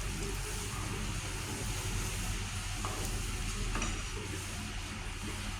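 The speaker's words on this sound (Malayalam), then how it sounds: "ഇനി അത് നമ്മൾ ഓട്സിലേക്ക് വയ്ക്കാം. ഒന്ന് ഇളക്കി കൊടുക്കാം." Fried onions being stirred into oats in a pan for a pumpkin oats soup, giving a dense, continuous sizzle and hiss with faint scraping throughout.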